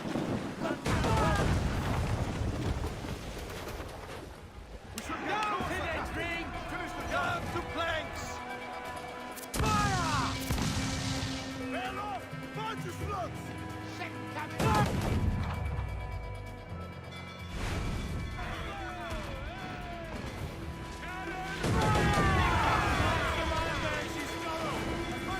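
Heavy booming blasts of mortar fire from fort defenses in Assassin's Creed IV: Black Flag, several deep impacts spread out among ship and battle noise, with a voice talking over parts.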